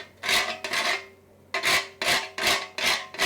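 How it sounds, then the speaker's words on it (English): Nutmeg is grated by hand in close, loud, rasping strokes, two quick scrapes, a short pause, then four more in steady rhythm, with no talking. "the nutmeg. I have to grate it here."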